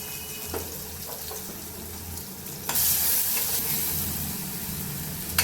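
Tomato with turmeric and salt being stirred in a hot frying pan, a steady sizzle with scraping stirs and a louder burst of frying partway through, close up with no talking.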